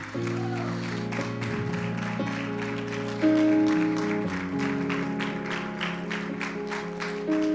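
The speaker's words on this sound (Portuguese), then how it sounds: "Se coloca de pé e dá um aplauso ao Senhor em nome de Jesus comigo." A church congregation at a Sunday service stands and applauds, with clustered claps running through sustained music while a voice talks over them.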